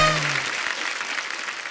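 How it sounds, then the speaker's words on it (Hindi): Studio audience on a comedy talk show bursts into loud, sustained applause and cheering, a dense wash of clapping that stays steady throughout, with a brief low tone fading at the start. "जोरदार तालियां मेरे लिए"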